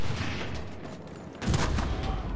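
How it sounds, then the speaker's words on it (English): Machine guns in a World War II shooter game rattle in dense overlapping bursts, loud and continuous throughout, growing heavier near the end. "these dudes are fucking owning the area with these fucking with these machine guns, bro"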